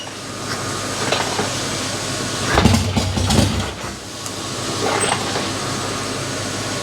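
An old swap-meet chopper motorcycle engine idles with a rough, uneven mechanical rumble, swelling a couple of times as the throttle is nudged, close and alone.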